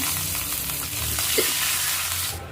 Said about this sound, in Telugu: ఆ నూనెలోకి ఇప్పుడు ఆవాలు, జీలకర్ర వేసుకుంటున్నాను